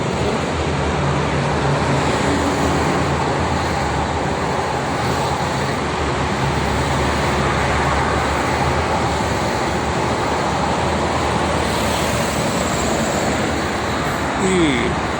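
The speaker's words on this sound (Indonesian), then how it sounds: "Banyak truk, malah ramai yang ke arah Jakarta itu angkutan barang" Steady roar of heavy highway traffic with many trucks passing nearby on the Jakarta-Cikampek toll road, a continuous rumbling wash of engines and tires with wind noise, no clear gaps between vehicles.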